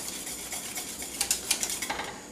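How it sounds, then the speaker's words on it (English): A whisk clinks quickly against a bowl, blending vanilla into butterscotch pudding in a home kitchen, a run of light metallic taps growing brisker toward the end, fairly quiet and close, with no talking. "just going to whisk that into this"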